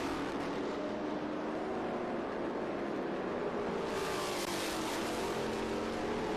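A Trans Am Series Dodge Challenger race car engine roaring during a championship race at Circuit of the Americas, a steady distant drone that swells slightly as the car passes, with no voices.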